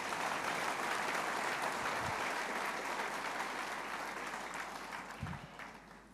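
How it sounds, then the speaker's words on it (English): Sustained applause from a conference audience after a business session, a dense steady wash of many hands clapping throughout that tapers slightly toward the end, with no talking over it. "Can we give him a round of applause, please?"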